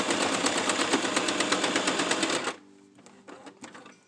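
A sewing machine stitching fabric face masks hums loudly and steadily for a couple of seconds, then stops abruptly, leaving faint clicks and handling noises.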